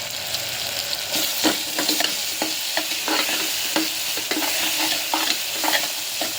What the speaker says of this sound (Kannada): ಎಣ್ಣೆಗೆ ಈ ಥರ ಹಿಂಗೆ ಫ್ರೈ ಮಾಡ್ಕೋಬೇಕು